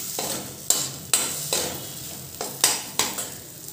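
Spices, onion and tomato sautéing in oil are stirred with a utensil in a pan, giving about six sharp scraping strokes at an irregular rhythm over a soft, constant sizzle, close up and without talk.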